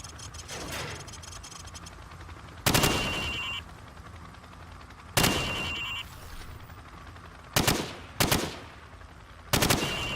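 Gunfire at shooting targets, fired from the hip, comes in five loud, sharp bursts with ringing tails, spaced irregularly over a steady background hum.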